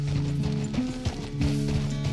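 Horse hooves clip-clopping at a walk in the Red Dead Redemption 2 video game, irregular soft thuds under a low droning musical score, moderately loud, with no talk.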